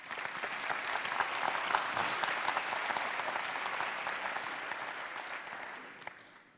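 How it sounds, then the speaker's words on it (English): A conference audience at GTC Taiwan, a GPU deep-learning event, gives a round of applause. The clapping is dense and steady and sounds somewhat distant, then tapers off toward the end. "Let's give the NTU, a National Taiwan University, a round of applause."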